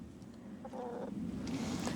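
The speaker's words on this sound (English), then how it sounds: "here are chickens and ducks." Chickens clucking softly in a backyard flock kept with a rooster and Muscovy ducks, a few short calls over a steady low background.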